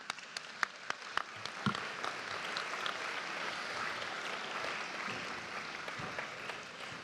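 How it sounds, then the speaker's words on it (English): An audience at a city State of the City event applauds a youth dance group, a dense, steady wash of many hands clapping at moderate distance with a few sharper claps near the start, continuing evenly throughout. "let's give them a round of applause"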